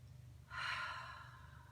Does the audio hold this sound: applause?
no